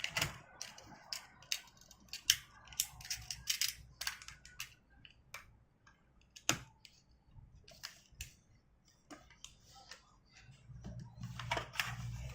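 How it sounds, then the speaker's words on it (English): A blade slices open the cardboard and plastic packaging of a die-cast toy car, giving faint, close crackles, ticks and crinkling snips in irregular bursts in a quiet room. "I will slice from here as it will be easier a bit or more to open."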